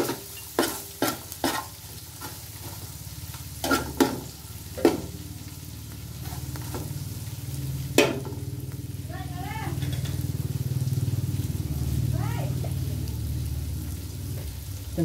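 Dried fish sautéed with ginger, onion and garlic: a steady sizzle under a few sharp utensil clinks and scrapes against the pan early on, with a low background hum.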